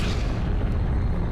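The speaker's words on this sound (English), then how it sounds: "A massive but short-lived star exploded as a supernova." A supernova explosion sound effect, a loud, deep, sustained booming rumble that fills the short moment without any voices.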